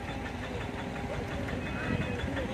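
A boat engine runs steadily near shrimp ponds and farming cages on the coast at Cửa Lò, a continuous low rumble that stays fairly close beneath a person talking.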